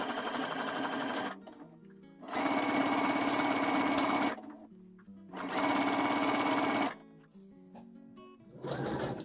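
A sewing machine stitches a flat neckband onto a garment in three long bursts of steady, fast whirring, each run stopping to near silence before starting again, close and clear with no talk.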